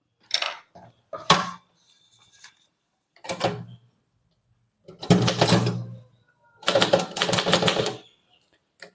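Typing on a manual typewriter, bursts of rapid close key strikes and clacks separated by short pauses, with longer dense runs near the end and no voices.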